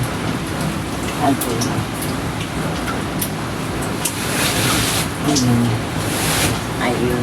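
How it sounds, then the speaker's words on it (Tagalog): Steady rain patters and hisses throughout, with a voice speaking briefly over it. "Nag-uulan-ulan na naman."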